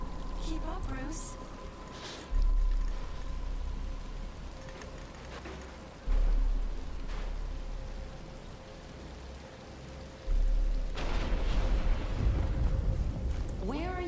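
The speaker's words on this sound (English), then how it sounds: "But it's starting to rain." Rain falls as a steady hiss in the Batman Arkham Asylum video game, with low rumbling thuds rising at intervals and voices speaking over it.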